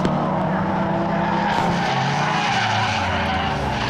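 A touring car spins at Silverstone during a pre-1993 touring car race, a loud, continuous engine roar with tire skidding, steady and close throughout with no talk.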